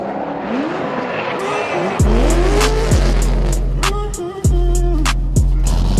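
A BMW E46 fitted with an angle kit swings into a reverse-entry drift, its engine roaring loudly with sharp gear-shift drops while tires squeal and skid in long rising streaks, close and without talk.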